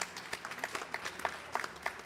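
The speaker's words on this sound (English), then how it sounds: "Give them a round of applause." Temple congregation at a Krishna Mandir Sunday service gives a round of applause, a fairly quiet, scattered clapping from a modest crowd with distinct individual claps in an uneven rhythm.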